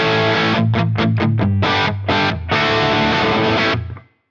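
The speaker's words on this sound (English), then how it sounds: "Moving on to some more mid-gain tones, this is based on more of a Marshall kind of sound." Electric guitar played through a mid-gain, Marshall-style distorted tone, with several short choppy chord stabs followed by a longer sustained chord that rings out and cuts off, loud and with no voice.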